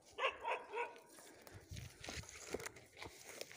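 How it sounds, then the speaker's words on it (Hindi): A village dog barks three times in quick succession close by, followed by softer whimpering sounds and outdoor background noise. "देखो हमारा कुत्ता भौंक रहा है"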